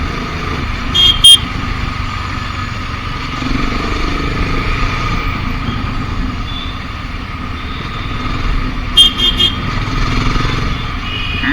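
A BSA Gold Star 650 motorcycle engine runs steadily at a low idle-like rumble, close and continuous, with a couple of brief high-pitched beeps.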